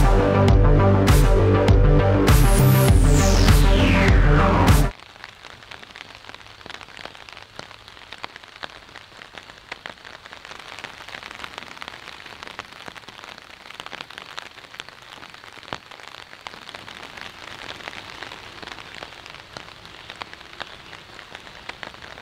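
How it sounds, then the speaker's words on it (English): Steady rain patters on the fabric of a Poler four-person instant pop-up tent, a dense continuous hiss of drops close by, following a brief burst of louder noise at the start. "Folks, it is beginning to rain now."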